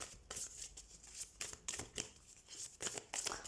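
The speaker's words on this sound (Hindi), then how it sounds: "so let's shuffle the cards" Tarot cards are shuffled up close in quick, crisp riffling bursts separated by brief pauses, quiet and without talk.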